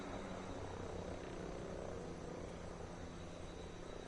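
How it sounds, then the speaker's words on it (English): A helicopter in the Ghost Recon Breakpoint video game passes overhead as a faint, steady low rotor drone and rumble that holds evenly throughout, with no talk. "hold position, wait for the helo to pass"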